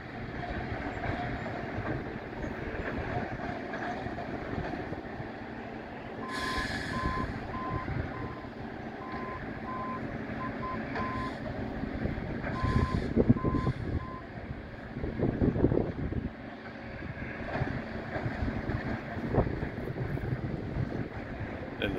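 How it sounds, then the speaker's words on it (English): A Nordco TRIPP machine sets railroad ties under the track on a curve during tie replacement. Heavy machinery rumbles and clanks throughout, with intermittent reversing-style beeps sounding in two bursts over the steady diesel drone. "He's setting the ties in place, and that trip machine's putting them back under."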